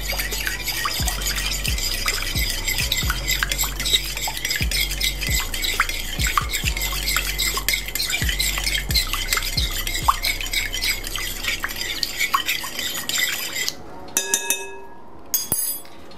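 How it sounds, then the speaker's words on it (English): A salt and water mixture is stirred in a bowl, giving a steady stream of light clinks and scraping swishes with occasional heavier knocks, then stopping to near quiet with a few faint taps at the end. "Give that a mix."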